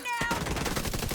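Rapid gunfire in a video game, a loud burst of fast repeated shots that starts abruptly and continues steadily to the end.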